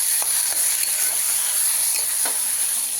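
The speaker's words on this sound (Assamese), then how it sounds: "আদা ৰচুন আদা ৰচুন ফ্ৰাই কৰি ভালদৰে ফ্ৰাই কৰি" Ginger and garlic frying in a pan, giving a steady close sizzle with faint stirring scrapes throughout and no talk.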